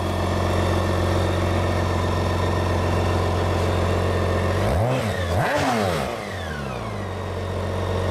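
A T-Rex 16S with a BMW 1600cc motor idles loudly up close, then revs sharply once, the pitch sweeping up and falling back before settling into a lower idle.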